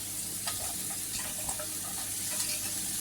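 A steady sizzle of chopped mushrooms frying in a hot pan, with faint stirring scrapes, continuous and fairly close with no voices.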